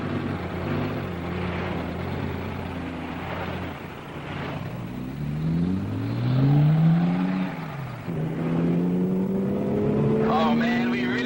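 Car engine in a Hardy Boys video game, revving and rising in pitch as it drives fast, loud and close, with game music and voices talking over it.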